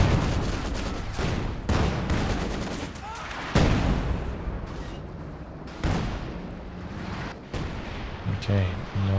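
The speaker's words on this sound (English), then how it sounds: "that was a big hit from the walking Stuka" Walking Stuka rocket artillery barrage in the Company of Heroes 2 war game, with repeated heavy explosions and rumbling booms under battle noise while a commentator talks.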